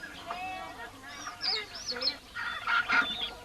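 Domestic chickens kept by the Kayan people in the Borneo jungle, clucking and squawking in several short bursts at close range, with a quiet voice-over.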